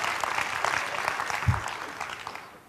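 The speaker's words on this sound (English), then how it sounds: "I don't know why you guys are clapping about that." Audience clapping in a conference hall during a presentation, brisk continuous applause from many hands that tapers off toward the end.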